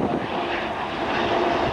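White Knight 2 carrier aircraft flying at the Oshkosh EAA air show, a steady broadband engine roar holding at a constant level throughout, moderately loud and with no talk over it.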